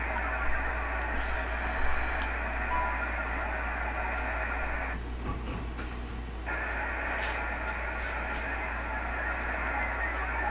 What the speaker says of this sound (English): It's a very bad signal. Very bad. But it is still working.